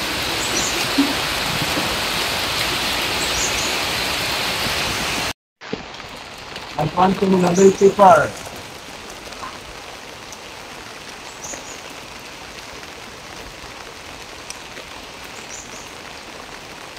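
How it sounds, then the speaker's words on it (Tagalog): Heavy rain pours down on a small home garden farm in a dense, steady hiss. The downpour then drops to a softer patter while a voice speaks briefly. "Grabe ulan, oh."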